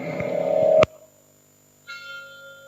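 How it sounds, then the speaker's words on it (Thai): A Buddhist temple bell signalling the start of a ceremony rings with a sharp struck hit that cuts off abruptly, followed after a pause by a sustained ringing tone. "ระฆังสัญญาณเริ่มต้นที่จะประกอบพิธีทางศาสนาทำบุญทักบาตรในเจ้าวันนี้เนอะ"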